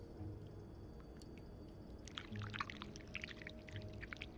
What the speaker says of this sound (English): to start, we need to pour the wax from the pot